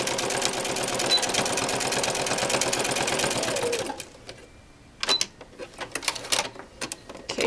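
Domestic sewing machine running a plain straight stitch through all the layers of a painted clutch bag's side seam: a steady, loud mechanical whir lasting about four seconds, then stopping, followed by sparse clicks and handling noises.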